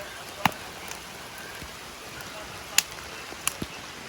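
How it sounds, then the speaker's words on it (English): Steady rain falls outdoors as a soft, constant hiss, with a few sharp louder drops or taps standing out. "It is raining. This is rain. It's not a drizzle. It's not misty. It's rain."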